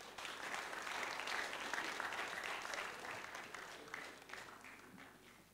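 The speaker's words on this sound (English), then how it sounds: "Can we give him a round of applause once again?" Sustained applause from a crowd, a dense steady patter of many hands clapping that gradually tapers off toward the end.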